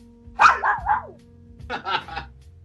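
A dog gives two short bursts of barking, a bright yelping cluster followed by a second quicker set, fairly close and loud over a faint steady hum.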